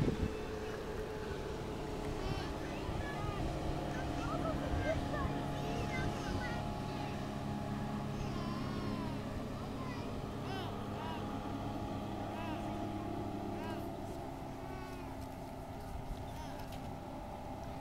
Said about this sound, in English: Oh, there's a motorboat going by.